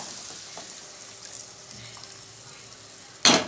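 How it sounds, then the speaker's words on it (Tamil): Coriander and green chilli sauté in hot oil with a soft, steady sizzle, a few faint stirring scrapes, and a sudden louder burst of sizzling near the end. "அந்த கொத்தமல்லி பச்சை மிளகா பச்சை வாசனையெல்லாம் கொஞ்சம் எண்ணெயிலேயே நல்லா வதக்க விட்டுடலாம்."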